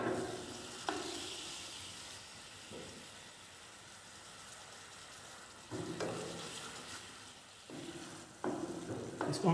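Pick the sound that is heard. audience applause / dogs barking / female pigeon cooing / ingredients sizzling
ingredients sizzling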